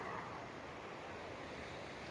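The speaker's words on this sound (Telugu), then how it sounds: "బీచ్ వ్యూ మాత్రం అలలు మాత్రం చాలా లాంగ్ నుంచి వస్తున్నాయి" Ocean waves roll in at Marina Beach at night as a steady, soft wash of surf with no distinct breaks, faint and continuous, with no voices.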